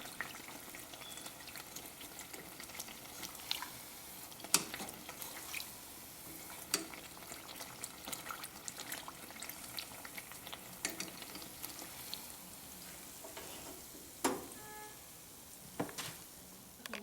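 A tortilla shell fries in hot oil for a chicken chalupa, giving a steady bubbling sizzle with occasional louder crackles and pops, close by and with no talking.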